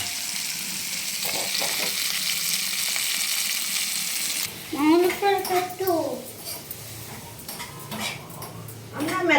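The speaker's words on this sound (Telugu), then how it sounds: "కళాయి పెట్టేసి ఆయిల్ హీట్ ఎక్కిన తర్వాత మిరపకాయలు వేసి కొంచెం సాల్ట్ వేసి వేగిస్తారు" Loud hissing sizzle of chillies frying in hot oil for several seconds, then a voice talking over fainter frying and utensil clinks.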